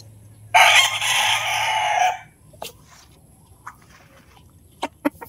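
An Ilaya White gamefowl rooster gives one loud, close crow lasting over a second, followed by quieter scattered clucks and farmyard clicks.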